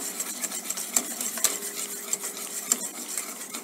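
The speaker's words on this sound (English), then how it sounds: "Just add a little oil, mix it in, and once it's mixed, add some more" A utensil whisks oil into mayonnaise in a bowl, close and fairly quiet, with soft rhythmic scraping and light clicks against the bowl at a steady pace and no talking.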